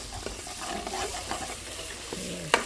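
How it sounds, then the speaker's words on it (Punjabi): Tomatoes stirred and frying in a pan for a ginger-garlic curry, with a steady soft sizzle and the scrape of a spoon against the pan, ending in a sharp clink of metal. "ਟਮਾਟਰ ਵੀ ਚੰਗੀ ਤਰ੍ਹਾਂ ਭੁੰਨ ਲਾਂਗੇ"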